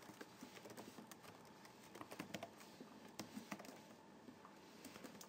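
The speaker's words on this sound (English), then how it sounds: "Sorry for my slow typing." Slow typing on a computer keyboard while writing Game Maker code, with irregular clusters of soft key clicks and pauses, close and moderately quiet, with no talking.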